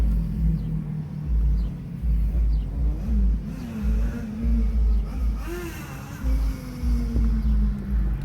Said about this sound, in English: it does sound like a Beetle. A hog-ass cammed Beetle.